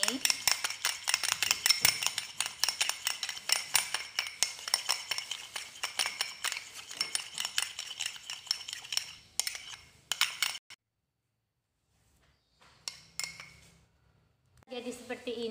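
A utensil stirs a toothpaste face mask mixture in a bowl, tapping and clinking rapidly against the sides in busy rhythmic strokes. The stirring stops abruptly, and after a short silence a few light clinks follow, with a voice briefly at the end.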